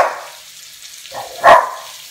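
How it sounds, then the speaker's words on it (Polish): A single dog bark sounds at mid distance, a short sharp yelp over a faint kitchen background where shrimp and cream are frying in a pan. "Co szczekasz?"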